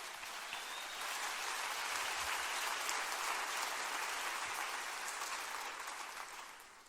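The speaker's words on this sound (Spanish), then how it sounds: "puedes darle un fuerte aplauso a Él" A church congregation claps together in sustained applause during a Spanish-language worship service, a dense steady patter that swells and holds before thinning out at the end.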